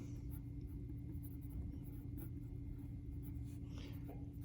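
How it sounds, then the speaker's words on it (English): Faint marker strokes on a board as a math lesson title on rectangle area and perimeter is written, nearly buried under a loud steady hum and room noise. "I'm going to go ahead and write that here, area and perimeter"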